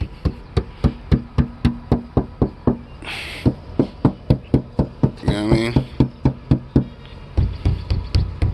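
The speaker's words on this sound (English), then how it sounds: "you guys can hear it, how solid the trunk lid is." Steady, evenly spaced solid knocks on a car trunk lid treated with Kilmat sound deadening, close and loud, with someone briefly talking between them.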